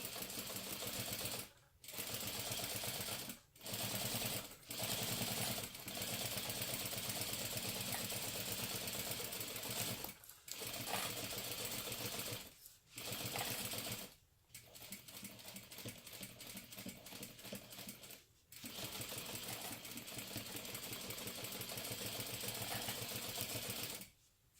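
A sewing machine runs basting stitches along the seam of a fabric cosmetic bag, sewing in long steady bursts broken by several brief pauses, close and fairly loud with no talking.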